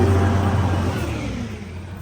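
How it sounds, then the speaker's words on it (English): A garbage truck passes close by, its loud, deep engine rumble and whir strongest at the start and slowly fading over two seconds, with no talk. "sorry about the garbage truck"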